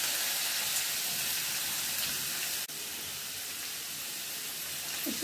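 Onions dropped into hot oil with turmeric, curry leaves and coriander for a prawn thokku, giving a steady, dense sizzle and crackle throughout with a brief dip midway, no talking.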